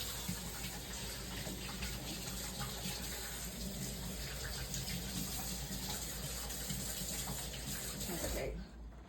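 Water from a kitchen tap runs steadily into a sink as carrots are washed, a constant close hiss and splash that cuts off abruptly near the end.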